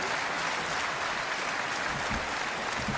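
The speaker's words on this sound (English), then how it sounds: "the fans are chanting or cheering because they see the match continue" Wrestling crowd at a match roaring and cheering in a dense, steady wash of noise, loud and continuous with scattered claps throughout.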